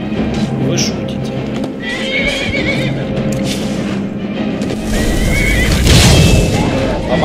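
A horse in the video game Skyrim neighs and whinnies over a busy game soundscape, with hooves clopping and occasional thuds and booms, while a voice talks intermittently.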